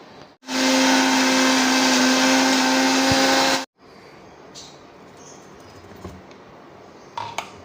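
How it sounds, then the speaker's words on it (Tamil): A kitchen mixer grinder grinding curry leaf chutney runs loud and steady for about three seconds, then stops, leaving quiet room noise and a few small clicks. "கொஞ்சம் ஆடிச்சு, இப்போ நம்ம அரைச்சிக்கலாம்."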